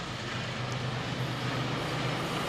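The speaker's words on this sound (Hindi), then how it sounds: "और ये शानदार लोकोमोटिव है WDG4G, जो अपने पीछे डबल स्टैक कंटेनर लेके आ रहा है" A WDG4G diesel locomotive hauls a double-stack container freight train past in Rajasthan, making a loud, continuous rumbling roar with a steady low drone and no pauses.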